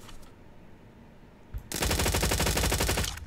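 Rapid gunfire from a video game weapon, a loud sustained burst of closely spaced shots that starts abruptly midway and runs to the end, with no talking over it.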